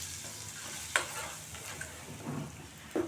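Spinach with garlic and green chilies stirred and sautéed in hot oil, giving a soft steady sizzle broken by a few sharp clinks and scrapes of the spoon against the pan.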